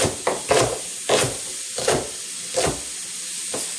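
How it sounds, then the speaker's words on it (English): A pressure cooker hisses while bean stew cooks in a home kitchen, with a steady steam hiss underneath and repeated loud clattering knocks close by at irregular intervals. "as you can hear in the background, that pressure cooker is starting to make some noise"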